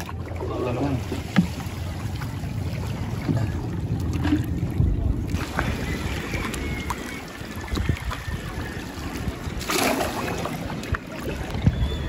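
A huge wooden boat out on calm sea, heard as a steady low rumble with wind buffeting the microphone and faint water sounds, no voices over it.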